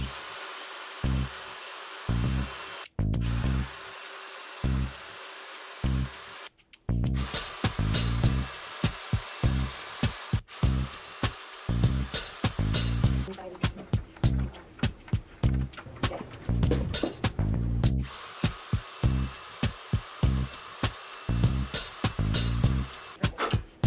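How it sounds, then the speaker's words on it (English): Power drill boring starter holes into clamped wooden boards for a fossil-hunting sifter, with repeated short bursts of loud whirring and motor pulses that start and stop in an uneven rhythm. "We put some clamps on it just to hold the pieces of wood together while we try to drill some starter holes."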